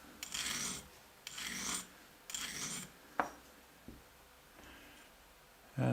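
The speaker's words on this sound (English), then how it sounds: "you grind away from the cutting edge, so you don't pull out the burr onto the cutting edge" An HSS boring bar's cutting edge is dressed by hand with a stone or file, drawn away from the edge: a few separate rasping strokes, close and moderately loud, with short pauses and light taps between them.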